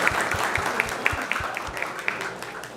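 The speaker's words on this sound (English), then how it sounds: "let's give them a big round of applause" Audience applause at the close of a Krishna Katha devotional talk, a dense steady wash of clapping with a murmur of voices underneath, moderately distant and sustained throughout.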